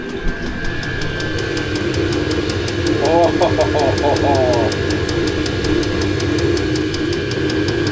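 A diesel heater runs inside an off-grid bunker as a steady droning hum with a fast, even ticking pulse; a person briefly exclaims.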